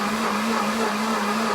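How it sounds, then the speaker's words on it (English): A kitchen blender runs its cleaning cycle, a loud, steady motor whir with a constant hum and no pauses, close by and without talk. "Now you can see the blender, how it's starting to do its cleaning thing."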